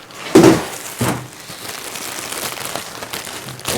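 Packaging crinkling while a MIVO heated outdoor cat house is unboxed, a loud close crackle near the start, another at one second, then softer rustling and handling noises.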